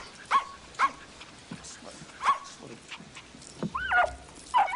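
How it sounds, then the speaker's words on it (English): A dog gives several short yips and whimpering barks, spaced irregularly and fairly close, with scuffling, rustling movement around them. "Ricky, don't play with the dog like that."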